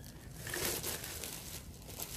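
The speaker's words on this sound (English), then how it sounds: "So the scale comes inside of a plastic bag." A plastic bag wrapped around an Anko Bluetooth body analysis scale crinkles softly and continuously, a quiet rustling handled close by with no voices.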